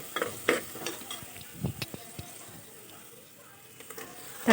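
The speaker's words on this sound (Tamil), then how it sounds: "இப்போது மசாலா நல்லா வதங்கிருச்சுங்க." Masala sautéing in a pan for chicken biryani, a soft continuous sizzle broken by irregular scrapes and taps of a spoon stirring, close and fairly quiet with no talk.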